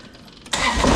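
A Kubota BX2380 compact tractor engine catches midway through, jumping from quiet to a loud, steady diesel idle that stays close and strong to the end.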